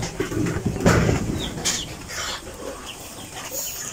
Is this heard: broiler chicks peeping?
yes